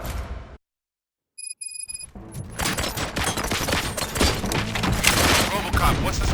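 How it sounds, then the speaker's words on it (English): Gunshots from the RoboCop: Rogue City video game ring out as a sustained, loud volley of rapid fire that builds over several seconds after a brief silence and a few electronic beeps, with voices faintly underneath. "Gunshots? What's going on?"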